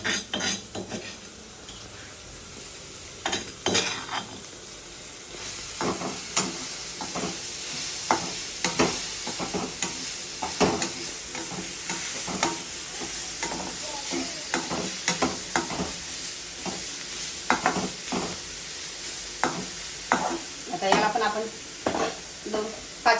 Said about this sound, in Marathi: आता आपण टाकणार मुळ्याची भाजी